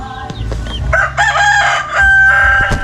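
A rooster, bred for gamefowl and crossed from golden gray and golden girl lines, crows loudly and close, one long drawn-out call with some clucking and shuffling in a coop, no talk.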